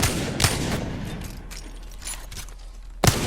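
Hip-fire gunshots in Apex Legends: a few sharp shots spaced irregularly over quiet game ambience, with a louder shot at the end.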